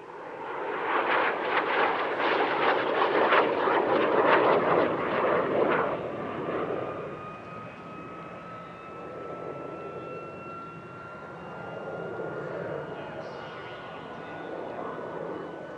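A Canadair CL-13B Sabre Mk VI jet with an Avro Orenda turbojet roars loudly overhead at an airshow, its pulsing rumble peaking early, then fading into a distant whine with a rising tone as it moves away.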